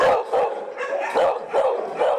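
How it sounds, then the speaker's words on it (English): A small Maltese mix dog at a Sioux City animal shelter gives a run of four or five close, loud, yelping barks in quick rhythm, with nothing else audible. "Meet this Maltese mix, one of a dozen dogs in Sioux City still shaking from the holiday weekend."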